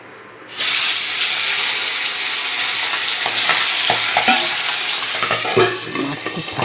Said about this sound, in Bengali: কড়া বসিয়ে দিয়েছি তেল দিয়ে দিয়েছি মাছটা ছেড়ে দেবো